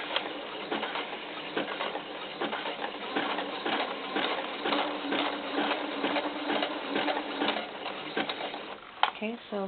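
Sewing machine stitching elastic onto doll underwear, a fast rhythmic mechanical clatter running steadily at close range, with faint talk toward the end.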